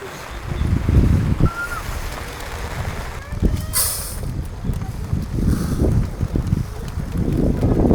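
Strong wind at a mountain-foot campsite on Mount Arayat buffets the microphone in low rumbling gusts throughout, with a brief hiss midway and faint voices underneath.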